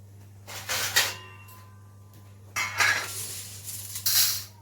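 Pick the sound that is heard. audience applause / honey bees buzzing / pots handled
pots handled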